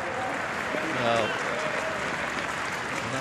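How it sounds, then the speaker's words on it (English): Football crowd at an FA Youth Cup semi-final between Manchester City U18 and West Bromwich Albion U18 applauds young player Banabe, a steady wash of clapping from the stands, moderately loud and continuous beneath a commentator's voice. "Banabe gets a round of applause, not for his silky skills, but for his work rate"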